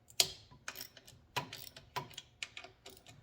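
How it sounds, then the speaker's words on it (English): A hand ratchet loosening the bolts on a Chinese mini bike while removing the rear wheel, giving a series of sharp clicking bursts in an irregular rhythm, close and fairly quiet. "So we got a little ratchet here. We're going to pop this off."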